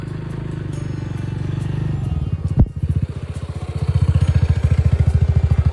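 A motorcycle-like engine idles nearby, then revs and settles into a loud, rapid, pulsing putter as the vehicle pulls up on the road, with a sharp clatter in between.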